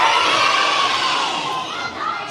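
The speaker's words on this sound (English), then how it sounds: "Shout it out, what do you think it is?" A roomful of second and third grade elementary school children shout out guesses all at once, a loud, dense burst of overlapping young voices that fades slightly and then rises again.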